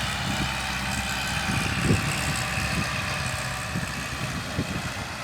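A Kubota L47 tractor's diesel engine rumbles steadily at idle with low, uneven chugging pulses, close and continuous throughout.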